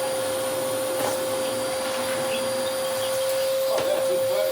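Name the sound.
Electrolux Mondo Z1190e vacuum cleaner running after restoration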